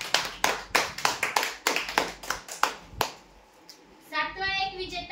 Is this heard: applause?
yes